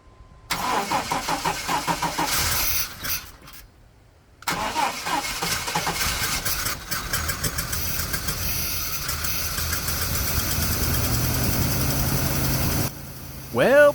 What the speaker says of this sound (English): now we can see if the engine will actually run with all the CNG stuff removed